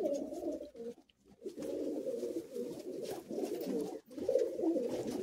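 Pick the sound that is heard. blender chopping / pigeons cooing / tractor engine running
pigeons cooing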